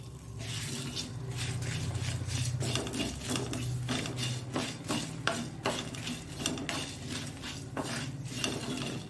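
Coriander and cumin roasting in a pan while a spoon stirs, with continuous scraping and clinking against the metal over a low sizzle and no voice.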